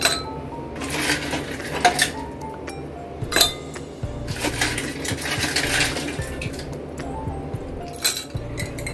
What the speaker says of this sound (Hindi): तो इसमें पहले हम सबसे पहले हम इसमें आइस डालेंगे